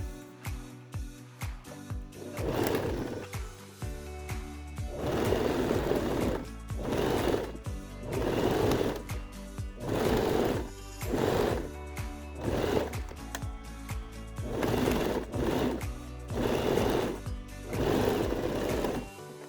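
A sewing machine stitching a small fabric kawaii keychain, running in about a dozen short, even whirring bursts separated by brief pauses, close and steady.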